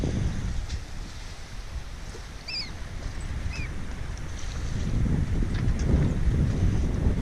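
Strong wind gusting around a sailing boat off Tasmania's Freycinet coast, a steady roaring rush with buffeting on the microphone and water noise beneath, growing louder toward the end.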